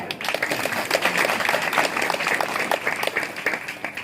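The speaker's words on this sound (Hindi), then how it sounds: "बचा दीजिए ताली" An audience at a Gond community gathering claps steadily for about four seconds, a dense run of sharp overlapping hand claps at moderate volume with no talking over it.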